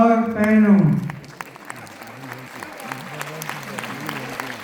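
A voice speaks briefly at the start, then an audience breaks into light, scattered applause, with individual claps ticking sparsely under faint voices.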